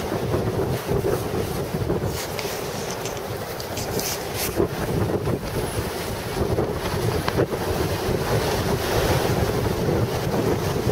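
Strong wind buffets and roars continuously at a Chicago street corner, Belmont and Sheridan by Lake Shore Drive, during a thundersnow storm, with gusty bursts and a rushing, surf-like wash throughout.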